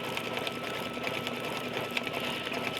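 An embroidery machine stitches pink thread through a topper on furry fleece, a steady fast mechanical whir with a regular rapid needle clatter close by, continuous throughout.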